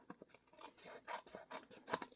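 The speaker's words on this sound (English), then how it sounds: "I do have to trim my piece just a little bit" Small paper card piece being trimmed with scissors, a quick run of soft crisp snips in close succession, quiet and near.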